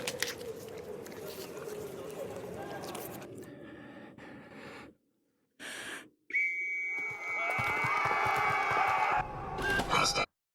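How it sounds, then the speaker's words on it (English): A sharp, shrill whistle blast sounds amid Fallout game noise and background rumble, with abrupt cuts to silence between bursts. "I never understood the whistle so much"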